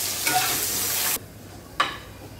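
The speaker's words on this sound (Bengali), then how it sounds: "আরেকদিকে আমি এই আলুগুলো একটু ভেজে নেব" Potatoes sizzle loudly as they fry in a pan, a steady hiss that drops off abruptly partway through and is followed by one short, sharp flare of sizzling.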